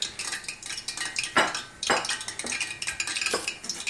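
A chef knife chops steadily through fresh garden beans on a board, giving repeated knocking strokes in an uneven rhythm, close and fairly loud, with no talking.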